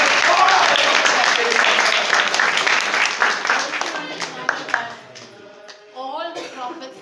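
A church congregation claps loudly together at first, then the applause thins and fades out while a voice rises over the tail end.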